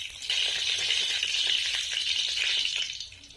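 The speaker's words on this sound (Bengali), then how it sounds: "লঙ্কা, পাঁচফোড়ন আর জিরে দিয়ে দিচ্ছি। তেল গরম হয়ে গেছে।" Chilli, panch phoron and cumin fry in hot oil, giving a close, continuous bright sizzle with faint crackles that holds steady for a few seconds, then tapers briefly at the end.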